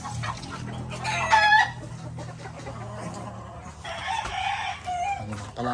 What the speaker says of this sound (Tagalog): Bali trio. Isang broodcock, dalawang brood hen.